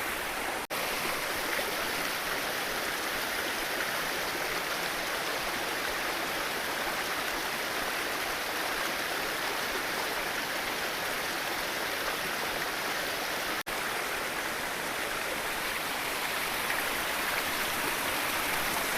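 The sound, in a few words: natural waterfall flowing from rocks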